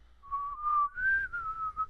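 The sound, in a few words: imitated whistling like a bird call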